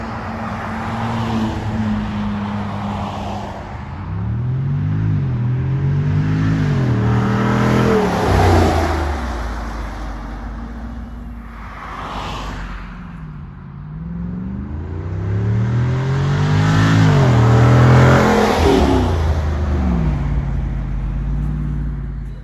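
A Jeep Wrangler 392 V8 revving loud and close from a deep idle, climbing twice in long, drawn-out pulls, then settling back to a rumbling idle.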